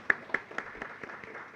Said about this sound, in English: let's give a round of applause again for everybody